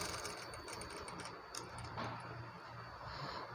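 A sewing machine stitches small frills onto a long frock, making a faint, fast, steady mechanical ticking and whirring close by with no voices.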